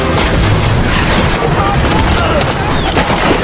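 Film battle scene: loud, dense bursts of gunfire and booming blasts overlapping continuously, with shouting voices mixed into the chaotic battle noise.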